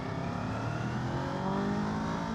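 Kawasaki KLE 500 motorcycle accelerating hard in second gear up a lane, a steady, loud engine drone with rising harmonics running throughout, up close and with no talking.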